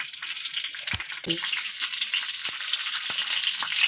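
Cumin and mustard seeds fry in hot oil with garlic, giving a loud, dense crackling sizzle with a few spattering pops and thuds over four seconds. No one speaks.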